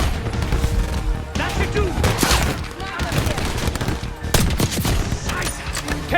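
Heavy gunfire in Call of Duty: Black Ops, a continuous loud barrage of overlapping automatic bursts and crashing impacts, with a voice shouting briefly over the din.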